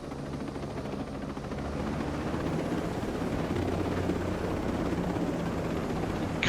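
Helicopters fly over the area in the Ghost Recon Breakpoint video game: a steady, loud rotor drone with a deep rumble holds throughout and swells slightly after the first second, with no talking.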